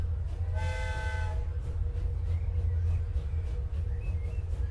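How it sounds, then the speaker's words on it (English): A train departs in the Transport Fever video game: a single bright horn blast of about a second rises over a constant low rumbling engine drone that continues steadily afterward. "First train coming out."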